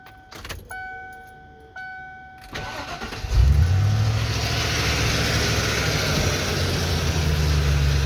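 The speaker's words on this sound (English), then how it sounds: "I can definitely tell this starter sounds a lot healthier than the other one." A 1996 Ford F-150 with a newly fitted starter cranks briefly, then the engine catches and settles into a steady, loud idle close by, with no talk.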